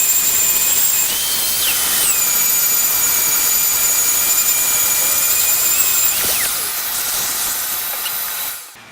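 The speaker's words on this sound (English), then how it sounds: "Now I'm ready to do the second round of sanding" A belt sander with an 80 grit belt works over a hand-carved sign, making a loud, continuous hissing roar with a high whine that shifts pitch a couple of times under load before it stops at the end.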